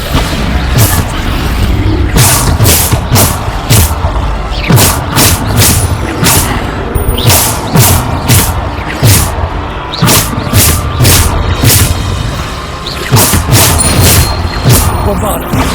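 Repeated Bombarda blasting spell explosions in the Hogwarts Legacy video game, a rapid series of loud, sharp bursts with booming impacts over a dense game soundtrack, alongside shouted spell incantations.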